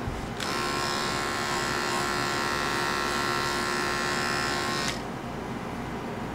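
Electric clippers buzz steadily and close while shaving a black-and-white dog in a miniature schnauzer trim, switching on after a moment and cutting off near the end, with a low background hum throughout.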